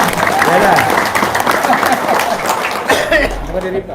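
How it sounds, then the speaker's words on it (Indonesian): Audience applause at a talk about paying off debts, steady broadband clapping throughout with voices and some chuckling mixed in over it, fading slightly near the end. "Siap, tepuk tangan dong."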